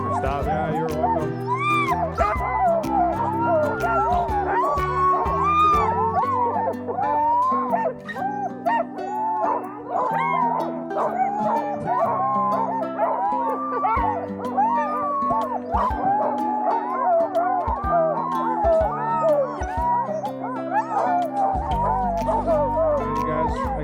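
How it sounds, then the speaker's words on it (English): Sled dogs on an Alaska dogsledding trip howl and yelp together in a loud, sustained chorus with overlapping wavering pitches, plus scattered barks and whimpers close by. "I think the dogs say we're gonna keep moving"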